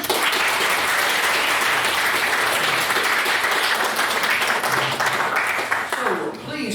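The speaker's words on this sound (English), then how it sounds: "can we have another round of applause for what was Umar's biggest speech?" A debate audience applauds in a hall, sustained dense clapping at full strength that thins slightly near the end, with a voice briefly audible as it fades.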